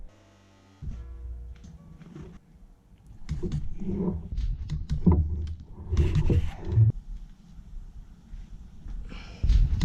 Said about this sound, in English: spins over good. Got out the Kickstarter.